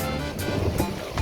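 Rough sea waves crash and spray over a car on the coast during a Philippine sportfishing tournament, a continuous loud roar of surf and wind with surging splashes.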